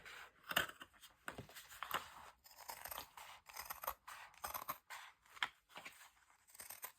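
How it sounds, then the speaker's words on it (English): Scissors snip repeatedly through denim jeans, cutting down the middle with crisp, uneven crunching strokes and short pauses, close and fairly quiet with no talking. "I'm going to cut down the middle of the jeans, or the denim."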